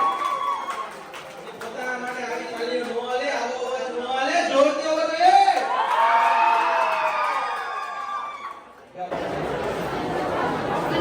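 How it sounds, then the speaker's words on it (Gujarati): A garba class crowd at a dance workshop in Amreli, Gujarat, bursts into loud cheering and whooping over dense, excited chatter, the roar holding steady before cutting off abruptly near the end. "પોતાના માટે એક વખત જોરદાર તાળીઓ કરી દો."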